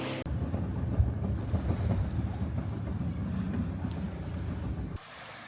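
A boat pounds across rough ocean waves in strong wind off Raja Ampat, a loud continuous rumble of engine, hull and wind buffeting that cuts off sharply near the end.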